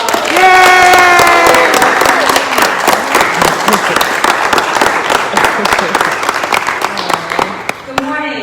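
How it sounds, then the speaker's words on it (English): An audience at a signing ceremony breaks into loud, sustained applause mixed with cheers and scattered voices, clapping steady for several seconds before tapering off. "Let's give Philli another round of applause."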